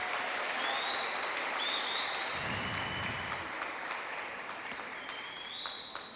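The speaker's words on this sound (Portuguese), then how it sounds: "Mais forte esse aplauso" Congregation at a church celebration service applauding, a dense sustained clapping that fills the room and slowly tapers, with brief voices and a low rumble mixed in.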